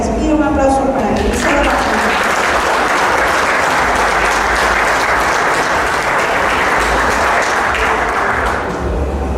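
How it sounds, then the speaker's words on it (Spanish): Audience at a book presentation in Jalpa de Méndez bursts into loud, sustained applause, a thick unbroken crowd clapping that swells in after a brief spoken moment at the start and holds steady to the end. "Pido un aplauso para él."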